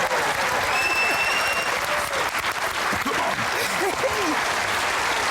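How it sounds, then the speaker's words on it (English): A studio audience at a magic game show breaks into sustained, dense clapping that stays loud and even throughout, with a few whoops and faint voices mixed in. "them a round of applause"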